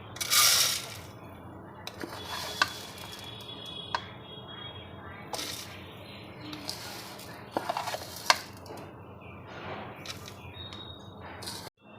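Raw rice is tipped into a pot and stirred for basanti polao, scraping and soft sizzling strokes with a bright rattling splash at the start, scattered clinks and knocks of the spoon against the pot.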